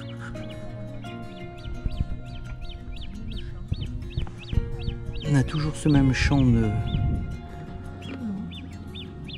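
Common moorhens call on a lake, giving a run of short, evenly repeated chirping notes, with a burst of louder squawks partway through. Someone talks over them.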